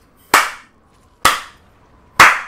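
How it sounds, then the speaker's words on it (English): Three sharp, loud hand claps spaced evenly about a second apart, close to the microphone, each ringing briefly before silence, with no talking. "That was not sarcasm clap. That was, I am genuinely impressed clap."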